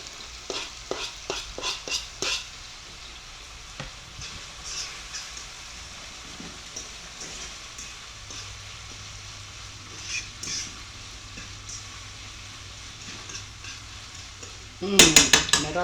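Chopped red onion for Philly cheesesteak pasta hits a hot pan, with a burst of clattering stirs at the start, then a soft continuous frying sizzle with scattered scrapes and a louder stir at the end.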